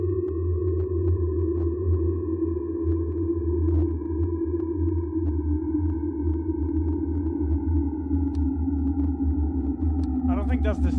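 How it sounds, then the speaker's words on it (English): Camera distortion effect in the horror game Observation Duty: a steady low electronic hum and buzz with faint tonal whine and crackling ticks, loud and continuous, with a brief burst of static near the end. "That's distortion, man."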